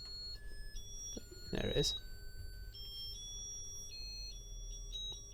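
Electronic sounder box from a badge circuit giving shrill steady beeps in short bursts and held tones, fairly close, over a low background hum, with a person speaking briefly.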